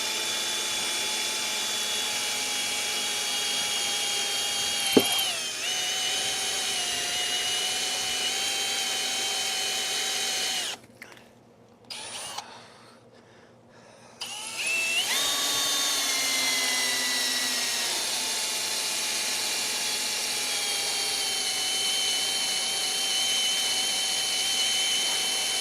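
Steady high-pitched whine of a power drill boring a pilot hole into a Kohler engine flywheel during Husqvarna mower repair, running continuously for about ten seconds, briefly easing off and stuttering, then resuming at full speed.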